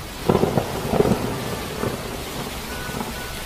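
Animated rainstorm: steady rain patters on surfaces while low rumbles of thunder roll in the first seconds and then fade into the continuing downpour, with no one speaking.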